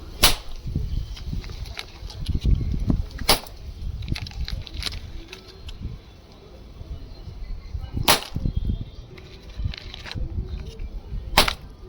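Several sharp, loud cracks of small stick firecrackers pop at irregular intervals against a low rumbling background.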